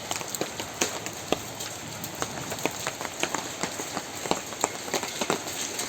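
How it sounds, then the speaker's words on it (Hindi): Small hailstones mixed with rain pattering on surfaces outdoors during a protest sit-in, a dense irregular ticking of sharp impacts over a steady wet hiss, with no talking. "बारिश का मौसम है, बुरा हाल है, आप देख सकते हैं यहाँ छोटे छोटे ओले भी गिर रहे हैं।"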